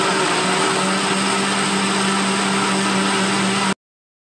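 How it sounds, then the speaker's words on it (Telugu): An electric mixer grinder blends a banana milkshake with a loud, steady motor whine that runs evenly for several seconds, then cuts off abruptly. "మిక్సీ గిన్నె మూత పెట్టుకొని మిక్సీ"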